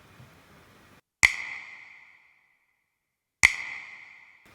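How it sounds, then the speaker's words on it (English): A finger-snap sample processed with EQ and reverb, two bright snaps a couple of seconds apart, each followed by a ringing, tonal reverb tail that decays over nearly a second, with faint music fading out before the first. "Then I added the EQ and a reverb."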